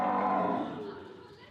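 Cows in India kept at a shelter by a devout Hindu caretaker, one lowing moo that starts loud and close and tails off gradually, with no talk over it.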